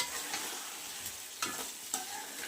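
Boiled taro roots being stir-fried in spice masala in a pan, a soft continuous sizzle with periodic scraping strokes of a spoon against the pan, close and fairly quiet.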